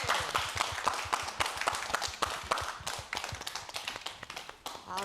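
Audience at an open-stage community show clapping along in a steady, brisk rhythm as a three-player ensemble prepares to perform; the claps are fairly close and continuous.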